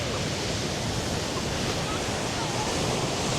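Rough sea surf on a beach at Nha Trang, Vietnam, makes a loud, steady, broadband roar of crashing waves with no clear breaks, like close wind-blown shoreline noise.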